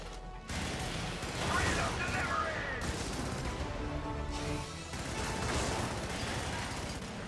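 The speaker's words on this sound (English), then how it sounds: "the MG94 really does put down a lot of firepower in a small space" Sustained automatic fire from the MG94 machine gun in Helldivers, continuous rapid bursts with dense crackling impacts and a brief pause midway, loud and busy with game battle noise against Illuminate enemies.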